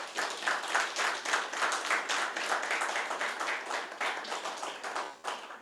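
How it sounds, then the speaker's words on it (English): An audience at a panel event gives a round of applause, the clapping fairly quiet and dense, swelling and dipping slightly before trailing off at the end. "Let's give him a round of applause."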